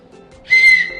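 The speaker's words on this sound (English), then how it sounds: "The whistle was one of the first things we printed, so it does work-ish." A small 3D-printed whistle blown once, a loud sharp shrill tone lasting about half a second, starting abruptly after near silence.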